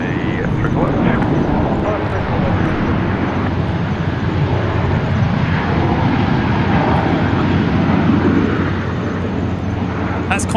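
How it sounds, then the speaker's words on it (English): A Qantas airliner touching down on runway 34 left at Sydney Airport after a flight from Melbourne, a steady broadband roar of engines and rushing air that holds loud for the whole stretch, with a voice talking over it. "That's Qantas 490 just touched down from Melbourne. They're on runway 34 left."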